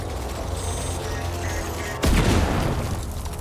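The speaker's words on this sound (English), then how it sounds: "I got a gun to kill paint monsters." In the horror game Alan Wake 2, a single loud, close gunshot cracks about two seconds in and decays into a reverberant boom over a constant background hum.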